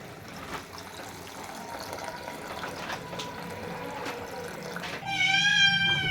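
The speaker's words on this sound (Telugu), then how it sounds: "ఇప్పుడు ఇందులోకి ముందుగా నానపెట్టుకున్న చింతపండు రసాన్ని వేసుకుంటాను" Soaked tamarind juice pours into a pot of tomato rasam with a continuous liquid splashing and trickling, followed by a sudden high, tonal squeal in the last second.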